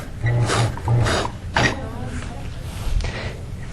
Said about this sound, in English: Now I recommend putting the coil through the first 2 to 3 holes and let the machine do the rest